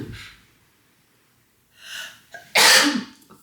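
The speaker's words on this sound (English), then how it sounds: "I feel like I gotta sneeze." A single loud, close sneeze, preceded by a sharp intake of breath and a brief nasal buildup.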